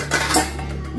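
Metal pots from a five-piece cookware set being handled, with a few quick clinks and knocks of metal against metal close by.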